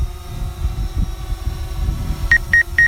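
A DJI Phantom 4 drone gives a proximity warning outdoors on a windy day: three short, evenly spaced electronic beeps near the end, over steady motor drone and wind rumble.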